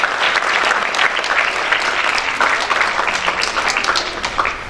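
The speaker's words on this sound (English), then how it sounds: "Give a round of applause for these parents." An audience at a school awards day applauds parents, a dense, steady clapping that holds loud and close throughout.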